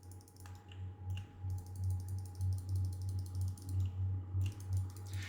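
Rapid, fairly faint computer mouse clicks during Unity terrain editing come in quick bursts with short gaps, over a steady low electrical hum and no speech.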